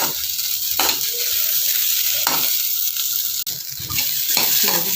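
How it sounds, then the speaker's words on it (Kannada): Chopped okra frying in oil in a pan, a steady close broadband sizzle with stirring scrapes and brief surges, running continuously without talk. "ಈ ರೀತಿ ಎಣ್ಣೆ ಹಾಕಿ ಹುರ್ಕೊಳ್ಳೋದ್ರಿಂದ ಯಾವುದೇ ರೀತಿ ಜಿಗುಟು ಬರೋದಿಲ್ಲ, ಅದು ಚೆನ್ನಾಗಿ ಫ್ರೈ ಆಗಬೇಕಿದು ಬೆಂಡೆಕಾಯಿ"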